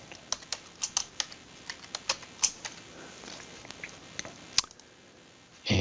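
Keys on a computer keyboard are tapped in an irregular run of sharp, close clicks while a robot program is entered during a lab demonstration, then the typing stops near the end.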